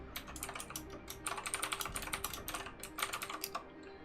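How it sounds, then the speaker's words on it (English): Fast bursts of clacky keystrokes on a new, loud computer keyboard during a game of Enter the Gungeon, close and crisp, with short pauses between flurries of typing. "this new keyboard is nice and loud"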